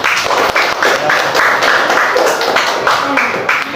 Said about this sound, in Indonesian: Iya, tepuk tangannya.